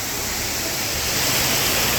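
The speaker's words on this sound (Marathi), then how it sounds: "खळखळणारं पाणी वाहत आहे" Water rushes and babbles at Jummapatti waterfall near Neral in a constant, loud broadband wash, close and unbroken, with no voices over it.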